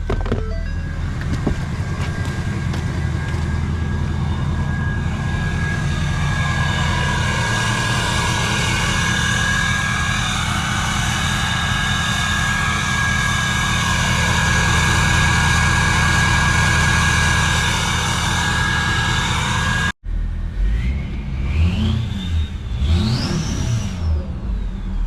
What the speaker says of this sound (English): I am still truly amazed by the sound of a 9-blade turbo